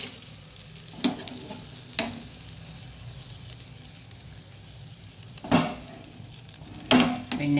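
Butter melting on a benne dosa in a pan gives a low, steady sizzle, broken by a few sharp spoon clinks and scrapes near the start and end.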